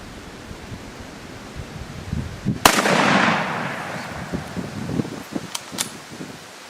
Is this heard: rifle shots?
yes